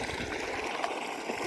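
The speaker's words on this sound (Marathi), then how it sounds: "विहिरीचं पाणी चाललंय फाट्याला" Well water gushing into a farm field channel after a pipe breaks, a steady close rushing and gurgling flow with no talk.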